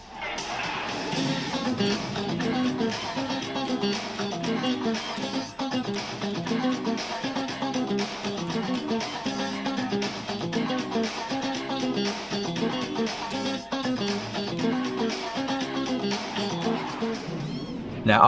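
Electric guitar plays a riff within a full, dense recorded mix, busy and steady throughout at moderate loudness with no talk.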